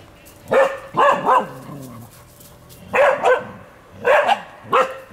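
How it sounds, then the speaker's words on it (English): A dog barks at a snake in Bengaluru, India, in short bursts, two quick sharp barks, a pause, then three more, close by with some yelping tone. "when the doggy is going to your gate or in front of your house and this special barking"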